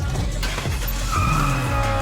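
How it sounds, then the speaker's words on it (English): A race car drifting at speed on an airport runway, tires skidding and squealing in a loud sustained screech over a roaring engine, close and continuous. "Drifting 172 miles per hour isn't for the faint-hearted"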